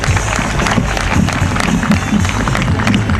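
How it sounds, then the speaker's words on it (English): A brief burst of audience applause greets speaker Larken Rose, dense clapping with crowd murmur filling the hall for a few seconds. "Give a round of applause to Larken Rose."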